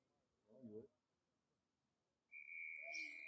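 A referee's whistle blown for the kickoff at a men's collegiate rugby consolation match between San Diego and Sacramento State: one steady, sustained blast of about a second, heard after a short burst of commentary voice.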